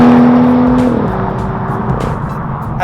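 A Dinan-tuned BMW M2 S2 with a 446-horsepower engine, loud and close, holding a steady high drone that drops in pitch, then settles into a rumbling exhaust note.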